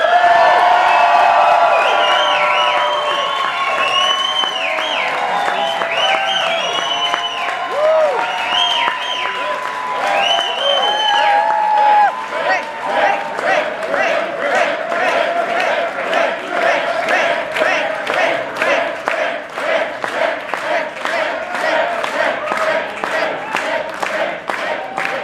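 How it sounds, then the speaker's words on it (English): A crowd at a political rally in Bethel Park, Pennsylvania, welcoming a congressional candidate with sustained applause and loud cheering and whoops that run the full length, with the cheering thinning into steady clapping in the second half. "So let's give a big, big round of applause and welcome for our candidate"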